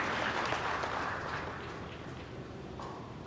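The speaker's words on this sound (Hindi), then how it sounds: "आप सब लोग जोर से तालियां बजाइए।" An audience claps steadily at a free smart AI glasses distribution event, with dense applause that fades slightly toward the end and no speech over it.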